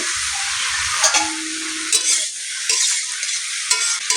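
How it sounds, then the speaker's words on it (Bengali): Taro stolons and prawns sautéing in oil, with a loud, dense sizzle filling the whole time and short scraping bursts from stirring close by, without any voices. "এবার এটাকে খুব ভালো মতন আগে কষিয়ে নিব"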